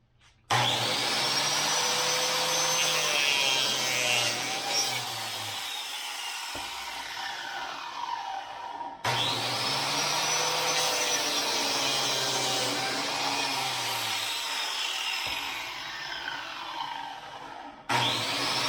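A biscuit joiner cuts slots in the wood of a cabinet base, two loud whining bursts of the spinning blade, each spinning up, biting in and winding down, close and alone.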